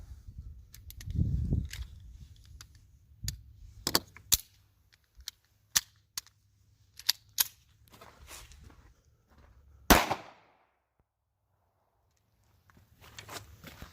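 Several sharp shots from a Taurus Spectrum pistol, spaced irregularly with a louder crack near the middle, against quiet outdoor background.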